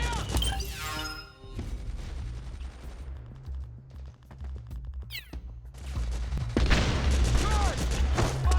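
Gunfire and explosions in the video game Metal Gear Solid 4, bursts of shots and booms mixed with shouted voices, music and battlefield noise.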